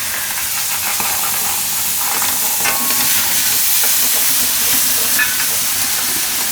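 Cauliflower frying in a pan with coriander-cumin powder and red chilli gives a steady, close sizzle as yogurt is stirred in, with soft scraping and no talk.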